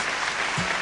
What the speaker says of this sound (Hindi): अरे जोरदार ताली बजा के स्वागत करा जा भाई